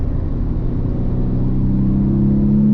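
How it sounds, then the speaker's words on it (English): Steady, loud Porsche 993 engine idle with a deep, throaty rumble through Borla exhaust cans that holds constant throughout, no voices. "Car's running good. It sounds good with the Borla cans"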